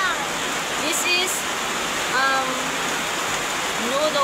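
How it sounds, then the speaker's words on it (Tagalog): Heavy rain pours down steadily outdoors, a dense constant roar, while a person talks over it in brief bursts. "kusog kaayo ang ulan"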